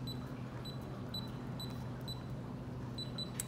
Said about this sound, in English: The lock double beeps to tell us it's the correct code